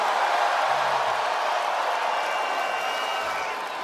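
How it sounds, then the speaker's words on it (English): A live wrestling arena crowd fills the space with a steady, dense roar of murmuring and cheering voices, constant in level from start to finish with no distinct claps or individual words standing out. "this wonderful crowd is here"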